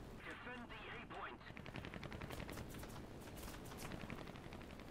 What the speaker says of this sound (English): He's just down to light machine guns to pepper me.